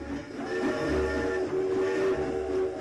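Steady rolling rumble of a moving train, used as a radio drama sound effect for a railway journey from Reading to a Berkshire village, continuous and fairly close with a tonal hum and no voices.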